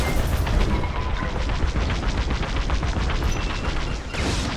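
Missiles launch and explode in a dense, loud barrage of booms and rumbling blasts during a Star Wars Squadrons space battle, continuous with no pauses.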